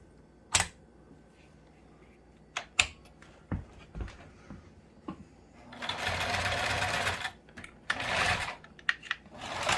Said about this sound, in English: they're basically sewing machines, just one's made for thicker material